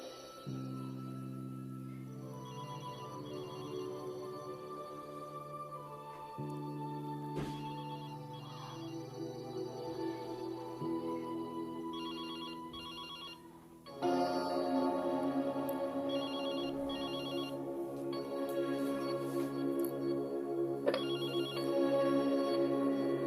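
A telephone rings in repeated bursts over a soft musical background, the ring growing louder and fuller partway through, with no one speaking.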